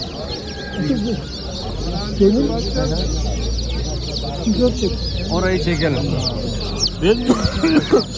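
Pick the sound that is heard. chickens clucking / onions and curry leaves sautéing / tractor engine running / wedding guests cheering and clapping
chickens clucking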